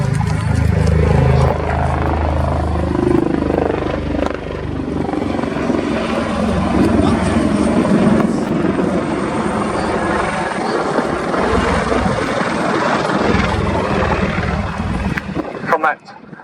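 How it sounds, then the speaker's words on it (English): Royal Navy multi-role maritime attack helicopters of the Black Cats display team roar overhead at an air show, a loud sustained rotor thrum with wind buffeting that drops off sharply at the end. "The latest generation of multi-role helicopters, specially procured to operate from the frigates and destroyers of the Royal Navy."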